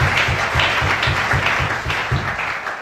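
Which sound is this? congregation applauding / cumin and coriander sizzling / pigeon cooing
congregation applauding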